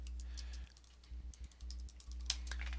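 Keys tapped on a computer keyboard while typing a command in a Linux terminal, a quick irregular run of soft clicks over a steady low hum, close by, with no talking.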